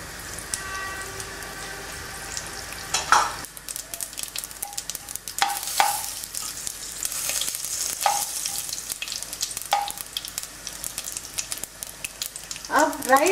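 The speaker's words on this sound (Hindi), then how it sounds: "गरम होने के बाद राई और हींग डालिए" Mustard seeds and asafoetida crackle and sizzle in a few spoons of hot oil, tempering for bisi bele bath. The frying is close and continuous, with brief spits and pops and scattered spoon clinks, and muffled talk underneath.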